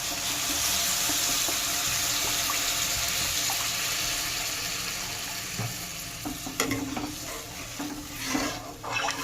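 Water poured into a pan of frying masala for a fish-roe gravy hits the hot spices with a loud, dense, rushing hiss that slowly softens, followed by quieter bubbling and a few light clinks near the end.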